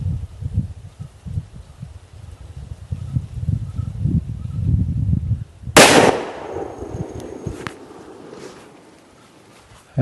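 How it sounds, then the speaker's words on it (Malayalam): A single loud firecracker bang bursts out partway through, set off to drive away wild elephants near damaged plantations; its sharp crack leaves a decaying rumble and crackle after a stretch of low outdoor wind and rustling. "ഏതായാലും പടക്കം പൊട്ടിച്ച് തന്നെയാണ് കേട്ടോ നമ്മൾ ഓരോ പ്രദേശത്ത് ചെല്ലുമ്പോൾ പോകുന്നത്."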